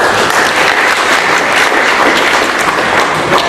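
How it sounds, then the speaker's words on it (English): An audience at a user group debate applauds in a loud, dense, continuous wash of clapping that holds steady throughout, with no talking over it. "Wondering if people are clapping or is it raining outside?"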